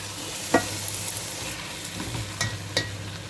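Rice tips into a pot of browned fried onions, with a constant hiss of frying and a handful of sharp scrapes and knocks from stirring spread across the stretch.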